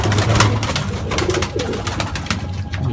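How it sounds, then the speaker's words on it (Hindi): Pigeons of various colours and breeds coo repeatedly on a rooftop loft, soft throaty calls layered over a steady background hum, with no voices. "माशाल्लाह से अलग अलग कबूतर हैं, अलग अलग रंगत के, अलग अलग चाल डाल के कबूतर हैं।"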